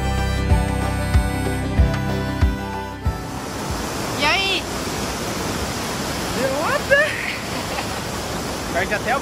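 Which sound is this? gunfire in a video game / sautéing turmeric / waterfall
waterfall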